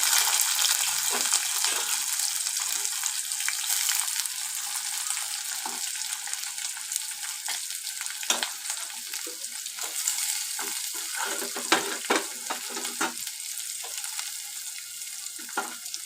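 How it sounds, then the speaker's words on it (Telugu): Washed bitter gourd pieces frying in oil in a pan, producing a loud, steady hissing sizzle with intermittent crackles and scraping stirs, close and alone without talk. "కాకరకాయలు ఇప్పుడు వేసుకోవాలి శుభ్రంగా కడుక్కున్న కాకరకాయలు"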